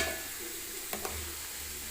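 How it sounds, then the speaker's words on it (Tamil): Eggplant tamarind curry bubbling in a pot, a soft continuous sizzling simmer with two faint clicks midway. "இப்போ பாருங்கள் குழம்பு நல்லா கொதிக்க ஆரம்பிச்சு காயும் வெந்துருச்சு"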